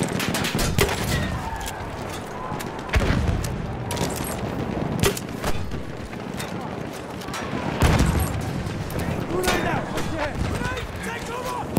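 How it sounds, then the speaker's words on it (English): Machine gun fire in Battlefield 1 on a First World War battlefield, rattling bursts and scattered shots near and far amid explosions and battle noise, with voices calling out over it. "Machine gun, one of theirs."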